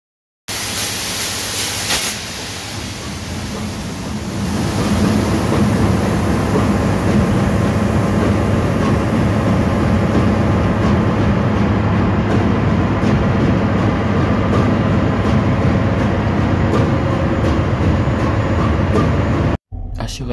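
A ship's main engine runs after an emergency manoeuvring start, first as a lower drone and then as a dense, loud, steady rumble with a constant mechanical hum, continuing unbroken until a brief cutoff near the end.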